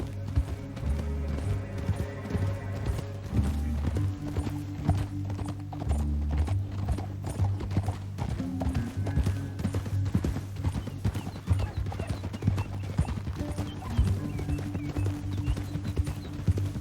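Horse hooves clip-clopping steadily in Red Dead Redemption 2, a continuous galloping rhythm under a loud musical score with low drones and sparse voices, riders moving through a canyon.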